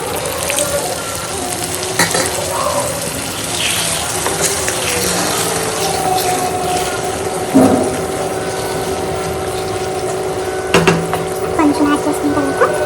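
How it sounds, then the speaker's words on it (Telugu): Chicken curry fries in a pan and water is poured in, giving a steady sizzle with bubbling and a few sharp clinks of utensils, close and fairly loud, with no talking. "ఇలా బాగా వేగిన తర్వాత కొంచెం వాటర్ యాడ్ చేసుకోండి."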